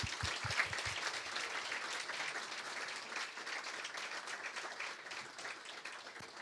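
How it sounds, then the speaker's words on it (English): Sustained audience applause at a conference closing event in The Hague, a steady dense roar of many hands clapping throughout, with a few louder thumps near the start. "can we just give a round of applause to our speakers so far?"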